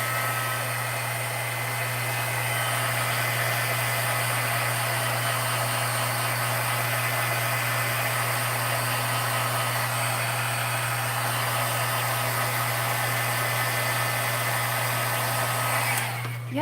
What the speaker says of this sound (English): I'm going to hit this with my heat tool real quick.